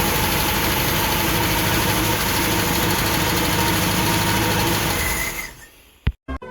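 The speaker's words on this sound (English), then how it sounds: "of course I got it idling a little high" A Volvo Penta marine boat engine with a Rochester Quadrajet carburetor idles slightly high, a steady, loud, continuous low rumble for several seconds, then cuts off abruptly, followed by a couple of brief knocks.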